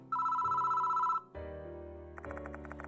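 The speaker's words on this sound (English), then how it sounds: "Why is the phone ringing now?" Telephone ringing in the video game Spirit Hunter: Death Mark II at Konohara Academy: a loud, steady electronic ring held for about a second, then low tense music and tones follow.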